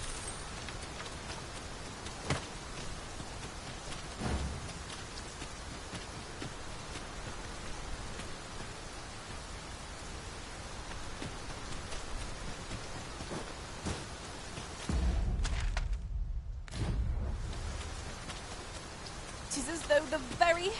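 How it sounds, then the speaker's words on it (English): Heavy rain in Dragon's Dogma 2, a steady hiss of downpour throughout, with a brief louder rumble like thunder near the end and faint background noise. "It is as though the very heavens have opened up onto our heads. We can push through a bit of rain, surely."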